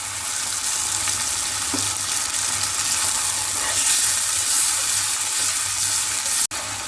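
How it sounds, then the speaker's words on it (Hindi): Steady loud sizzling and crackling of beef with yogurt frying over high heat in a karahi pan, continuous hiss with a brief clatter near the end. "तेज आंच पर 3 से 4 मिनट गोश्त को भुनेंगे"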